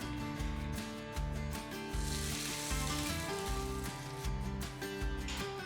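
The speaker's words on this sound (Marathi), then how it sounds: "आता हा तडका आपल्याला बीटच्या चटणीवर टाकून घ्यायचा आहे" Hot tempering of mustard seeds, urad dal, dried red chillies and curry leaves poured onto beetroot chutney, giving a loud, steady, crackling sizzle throughout, with no talking.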